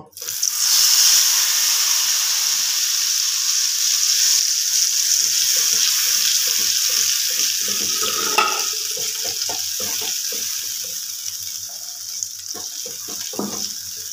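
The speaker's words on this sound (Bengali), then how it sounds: "এবার এর মধ্যে মশলাটা দিয়ে দেব।" Spice paste for a fish curry hits hot oil and sizzles loudly, a steady bright hiss that carries on throughout, with faint scraping of stirring underneath.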